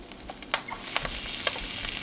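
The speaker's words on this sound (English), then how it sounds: "now we're ready to throw them on the pan, give them a good sear" Duck breast sears skin side down in a hot pan, a steady broadband sizzle with a few sharp pops and spatters standing out over the frying hiss.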